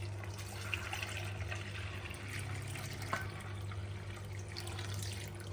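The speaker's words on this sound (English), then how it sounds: "I will be pouring the water, the entire water," Water being poured into turmeric to make golden paste, a steady close liquid rush with faint drips and splashes over a low constant hum, no talking.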